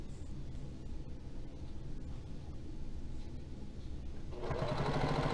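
Sewing machine stitching jelly roll fabric strips for a rail fence rug, running as a steady mechanical hum with a dense rapid stitching pattern that grows louder and brighter near the end, with no talking.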